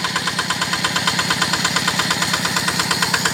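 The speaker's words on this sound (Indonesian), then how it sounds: "Nah, dieselnya sendiri ini menggunakan Yanmar tipe TF85 MLYS DI." A Yanmar TF85 MLYS DI diesel engine rated 8.5 HP driving a 3-inch Ebara water pump, a loud close-up rapid rhythmic chugging with steady knocking pulses and no speech.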